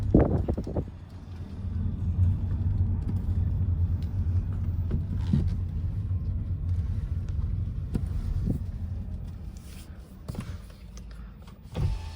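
A car engine idles with a steady low rumble for several seconds, then the hum gradually drops away as it is switched off, with a few clicks and small cabin knocks near the end.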